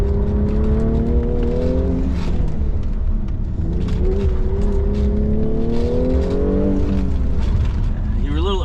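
Car accelerating hard on an autocross course, engine pitch climbing and dipping as it shifts and brakes for corners, loud and close from the cockpit, with a voice talking over it.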